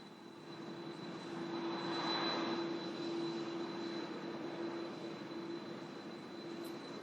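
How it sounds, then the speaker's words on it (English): The engine of an Alitalia plane drones at Baghdad international airport, a steady, moderately loud whine and rumble with a sustained hum, swelling slightly then holding, with no talking. "Of that Alitalia plane that's carrying the Pope and his entourage, and also more than 70 journalists there at Baghdad's international airport"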